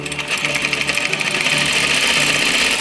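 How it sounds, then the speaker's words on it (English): A sewing machine runs steadily, stitching along the edge of a fabric strip for 18th-century gathered ruching trim, with a continuous close mechanical whir and no pauses. "I'm going to stitch right along this edge"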